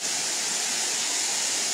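A secret waterfall pours into a river bed as a constant, loud, hissing roar, steady throughout and with no voices.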